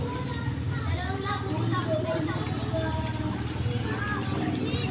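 A motorcycle pushes through deep flood water in a residential area, with a steady churning wash and low engine drone throughout while someone talks over it.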